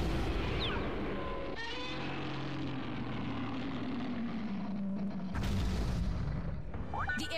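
Rumbling destruction from Godzilla levelling an area in the Godzilla PS4 game, with booming crashes and low roar-like drones over a steady din, and a sharp loud burst near the end.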